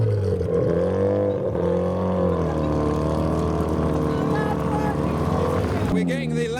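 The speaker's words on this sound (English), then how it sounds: "And now we have the Veilside RX-7 leaving the show." A Veilside RX-7 drives away from a car show, its engine note droning loud and close and rising and falling steadily through the clip as it pulls off.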